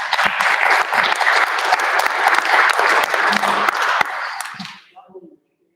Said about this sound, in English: So I just want to give Dave a round of applause and congratulations.